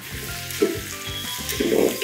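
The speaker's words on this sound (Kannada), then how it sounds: "ತುಂಬ ಚೆನ್ನಾಗಿ ಫ್ರೈ ಮಾಡೋಣ" Mushrooms frying in a pan for mushroom biryani, a loud close sizzle with rhythmic scraping stirs of a spoon against the pan.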